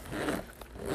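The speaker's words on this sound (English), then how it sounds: "The zippers are substantial. They're gold." A gold zipper on a Steve Madden or Juicy Couture handbag is drawn open and shut, giving a close, raspy run of zipping for about a second.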